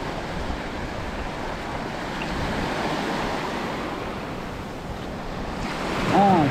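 Ocean waves at a Hawaiian shoreline, a continuous rolling surf roar with wind buffeting the microphone, swelling louder near the end.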